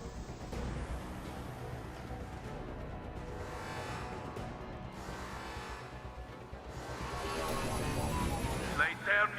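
A gunship aircraft flies in a video game, giving a steady, loud engine roar that swells toward the end. Game sound effects and music are layered over it.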